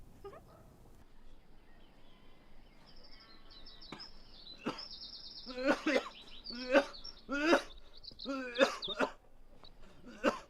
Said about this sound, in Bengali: কিরম কাশি হয়েছে দেখেছো?